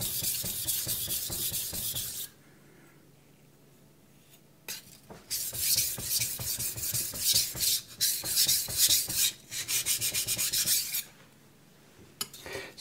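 A small knife is sharpened on a Shapton Pro whetstone, with close, steady rhythmic scraping strokes that pause briefly in the middle before resuming, with no talking.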